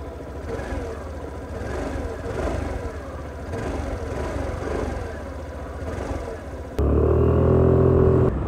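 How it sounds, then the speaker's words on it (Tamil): A Suzuki Avenis 125 scooter's exhaust idling just after starting, a low, close, steady putter with a faint rhythmic pulse, then a sudden louder hum near the end, and no talk over it. "எக்ஸாஸ்ட் சவுண்ட் எப்படி இருக்குன்னு கேட்டு பாருங்கள்"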